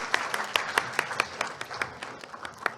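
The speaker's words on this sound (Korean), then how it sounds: "다시 한번 뜨거운 박수 보내주시기 바랍니다" Applause at the 10th anniversary vision ceremony of the National Institute of Green Technology, a modest audience clapping in sharp, fairly sparse and irregular claps, moderately close, with no talking.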